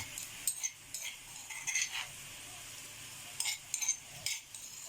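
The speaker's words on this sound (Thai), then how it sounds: "ผัดให้หอมก่อน" Chili and garlic stir-fried in a pan, with light metallic scrapes and clinks of a spatula in short bursts over a faint sizzle, fairly quiet and close.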